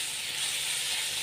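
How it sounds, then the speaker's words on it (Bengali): Mushrooms stirred in a pan with poppy seed paste, turmeric and chilli powder, giving a steady, close, even sizzle with no talking. "এবার ভালো করে কষিয়ে নেব"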